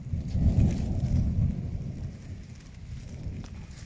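A summer thunderstorm approaches in woodland, heard as a low rolling rumble of thunder with a dense patter of rain that eases slightly toward the end.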